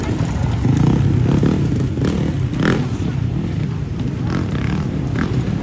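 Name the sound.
Sherco 300 enduro motorcycle riding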